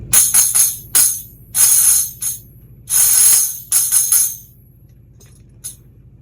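A tambourine shakes in several bright jingling bursts, some short and some sustained, separated by pauses, close and fairly loud.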